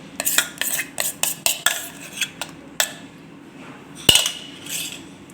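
A steel tin filled with dhokla batter is tapped against a surface, giving a quick series of sharp, close metallic knocks, then a pause and one louder clank with a ringing tail.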